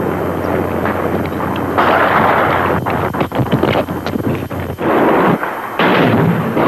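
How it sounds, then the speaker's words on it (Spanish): Heavy gunfire and booming blasts crack out in irregular bursts, loud and close, with wind buffeting the microphone throughout. "Continúan los tiros."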